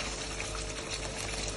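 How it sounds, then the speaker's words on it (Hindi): Thick gravy poured over malai kofta, a continuous dense wet rushing and splashing that stays steady and fairly loud throughout, with no voices. "अब इसके ऊपर मैं डालूंगी ये ग्रेवी"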